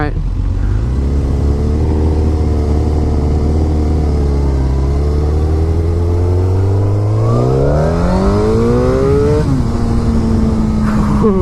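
Suzuki GSX-R1000 liter bike engine revving up loudly and steadily, pitch rising through the gears with audible shift breaks, close and continuous throughout.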